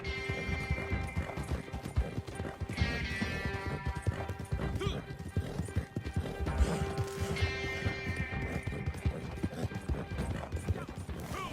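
Horse hooves clip-clop and gallop steadily while riding through Red Dead Online, with an occasional whinny, persistent and close over background game music.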